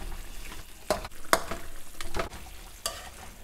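Salted black beans and soy sauce being stirred in a frying pan, with a few scraping, sizzling strokes of the utensil against the pan over a low background hiss.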